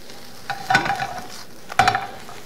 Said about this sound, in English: I'm going to stir in my greens and onions, as well as a sprinkling of dill